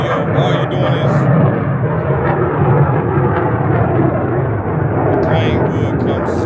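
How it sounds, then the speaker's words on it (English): A loud airplane flies overhead indoors, a continuous broadband roar that holds steady for several seconds and stands alone with no talk. "the plane would come as soon as I'm trying to make a video."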